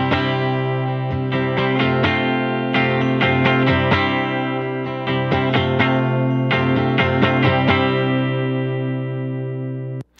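Clean electric guitar chords strummed in a steady rhythmic pattern through a 1968 Fender Princeton Reverb tube amp at low volume, warm and close, with a slight amp reverb tail and no talking.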